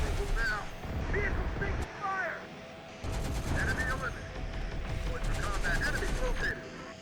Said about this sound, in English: Oh, enemy turrets engaging.